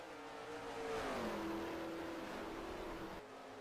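Street stock race cars roar around Bristol in a racing video game, a steady engine drone with rising and falling pitch as cars run side by side, moderately loud and continuous with no voices.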